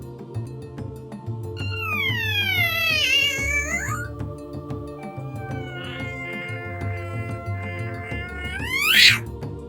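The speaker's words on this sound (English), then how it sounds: "We have 2 crazy cats." Two cats meowing and caterwauling, close and loud, with long drawn-out wavering cries, a rapid run of shorter calls and a sharp rising yowl near the end, all over a steady background hum.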